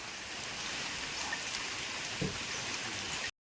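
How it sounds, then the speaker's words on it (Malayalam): Steady heavy rain hisses without a break, a dense wash of falling water with no voices. "നല്ല മഴയാണ് മഴ മാറിയിട്ടില്ല"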